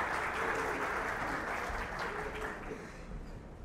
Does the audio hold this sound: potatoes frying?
no